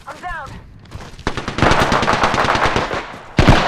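Automatic gunfire in the video game Apex Legends, loud rapid bursts of shots that build into sustained fire and end with a sharp, heavy burst, with a brief vocal sound near the start.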